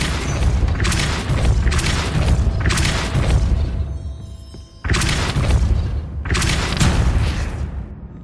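Depulso spell cast in the video game Hogwarts Legacy: a series of loud, booming magical blasts, about five surges with whooshing tails, and a short quieter gap near the middle.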